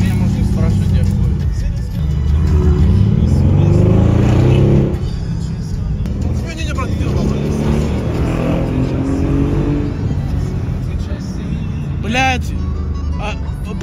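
A BMW M2 G87 engine drones and revs loudly throughout, with a rising turbo whistle near the end, while people talk over it.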